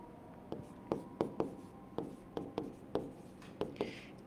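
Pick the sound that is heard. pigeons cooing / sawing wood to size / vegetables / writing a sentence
writing a sentence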